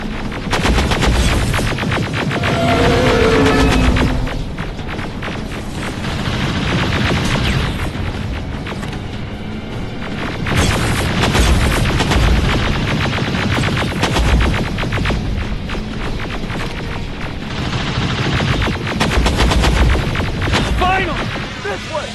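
Sustained automatic gunfire from the video game Terminator: Resistance, loud and continuous, with rapid bursts and heavy booms layered over a dense combat din throughout.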